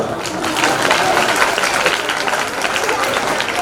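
Continuous, dense clapping from an audience at a Janmashtami celebration, held at an even level with faint crowd noise beneath.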